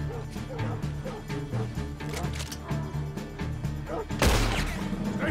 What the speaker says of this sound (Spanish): ¡Hostia, el perro!